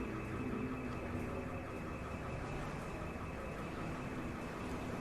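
A steady electronic alarm drones on somewhere within a video game scene, an unbroken sustained tone with a faint background hum, holding level for the whole stretch with no voices.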